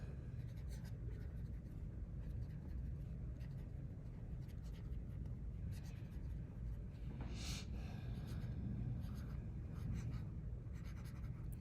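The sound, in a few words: pen writing on reMarkable 2 tablet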